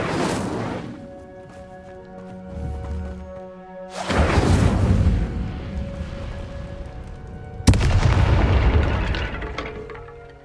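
An Incendio fire spell in Hogwarts Legacy, heard as a series of loud booming fiery bursts, each followed by a long roaring decay over tonal game music.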